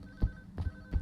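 A telephone ringing in the game Unspoken, a thin sustained ring tone running under three dull low thumps in about a second, with no voices.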